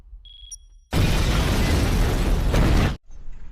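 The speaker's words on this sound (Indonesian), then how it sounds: "Don pun membuat ledakan" An explosion in an action scene from the film Don 2 erupts as a loud, sustained roaring blast for about two seconds after a brief electronic tone, then cuts to quieter rumbling debris.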